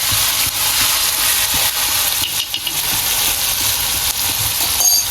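Chili and garlic paste hits hot oil on a griddle and sizzles, a steady, loud frying hiss that holds through the whole stretch with faint stirring clatter underneath.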